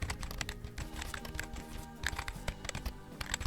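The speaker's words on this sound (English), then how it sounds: "Let me type in the prompt again." Computer keyboard keys clatter in a quick, irregular run of clicks while a prompt is typed, close and fairly quiet, with no talking.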